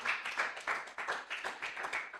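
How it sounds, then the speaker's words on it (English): Audience applause at a live-streamed inclusive development event as a speaker is welcomed, a steady dense patter of many hands clapping at moderate level throughout. "Please put your hands together."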